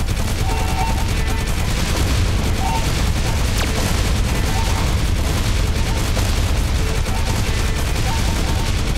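Automatic weapon fire in the space shooter Galaxy Warfighter, a loud, continuous stream of rapid shots with dense booming under it, unbroken for the whole stretch.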